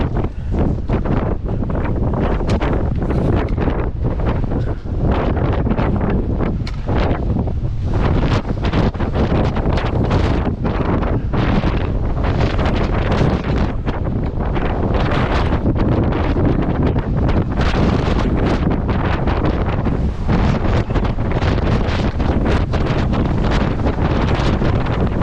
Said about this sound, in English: all that wind was funneling right up that canyon, or valley, whatever you want to call it